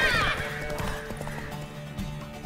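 Horse whinnying and galloping during a horse race in The Witcher 3 video game, a loud neigh opening over steady hoofbeats, with game music and ambience underneath.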